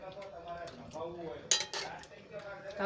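Mashed boiled potato being mixed into a potato curry in a metal pot, with soft stirring scrapes and one sharp clank of the spoon against the rim, close by under a faint voice.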